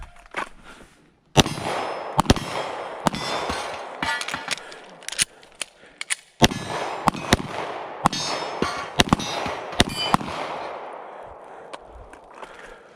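Rapid gunshots crack in irregular strings during falling steel target training outdoors, each followed by ringing metallic clangs of rounds striking the steel plates, loud and sharp with brief pauses between bursts.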